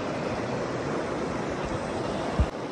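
Water flows in a stream in a mountain village, a steady broadband rush close to the microphone with a faint low thump near the end.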